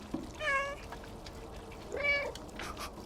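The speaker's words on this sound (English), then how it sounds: "Yeah, that second meow especially" A cat meows twice in the video game Stray, two clear, separated cries over a faint background hum, with no talk.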